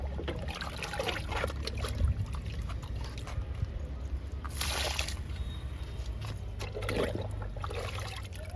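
Liquid fertilizer poured into potted chili plants, a steady trickling and splashing stream running throughout with a few brief louder gushes.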